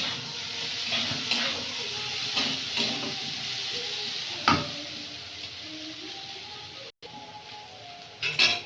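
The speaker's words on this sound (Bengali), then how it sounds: "দিয়ে দেবো একটু পাঁচফোড়ন, দিয়ে আর একটু ভালো করে নেড়ে ভেজে নেব" Radish frying in hot oil with panch phoron in a village kitchen pan sizzles steadily and close, with scraping stirring strokes and a faint voice in the background.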